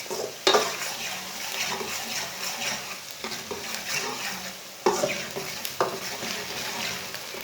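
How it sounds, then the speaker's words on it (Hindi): Onions browning in a pan sizzle steadily while a spoon scrapes and stirs them, with a few louder clanks of the spoon against the pan. "प्याज को ऐसे ही चम्मच चलाते हुए ब्राउन करना है,"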